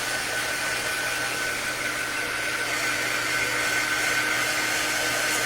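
A dryer blows steadily on a craft project, giving a constant close whooshing hum of fan noise that runs unbroken from start to finish with no talking.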